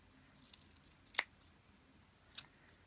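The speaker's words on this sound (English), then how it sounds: "So I'm going to trim it straight across there." Scissors trim a Bratz doll's hair straight across, with two crisp, quiet snips about a second apart in a hushed room.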